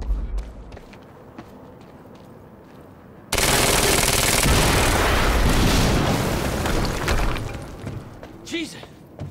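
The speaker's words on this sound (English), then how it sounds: "HQ, we just heard an explosion near the harvesting perimeter." A sudden loud blast in the video game Quantum Break, followed by several seconds of roaring, crackling debris and gunfire-like bursts, with voices speaking before and after.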